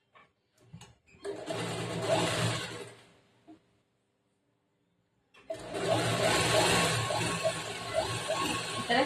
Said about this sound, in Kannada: ಫಸ್ಟ್ ಸೆಂಟರ್ಗೆ ಜೋಡಿಸಿಕೊಂಡು ಒಂದು ಸ್ಟ್ರೇಟ್ ಆಗಿ ಒಂದು ಹೊಲಿಗೆ ಹಾಕ್ಬೇಕು